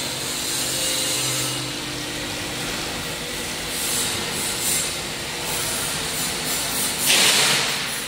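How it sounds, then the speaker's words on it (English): A three-ply face mask machine driven by a servo motor runs steadily in a factory, giving a continuous mechanical whir and rattle with faint rhythmic clacks, close and fairly loud, with no talking. "is a servo motor, three-ply face mask machine"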